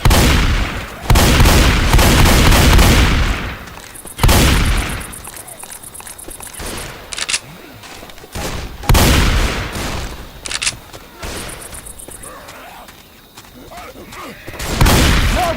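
Repeated bursts of automatic gunfire from the zombie shooter Left 4 Dead 2, loud and close, with fast rattling volleys broken by short pauses and clicking reload sounds.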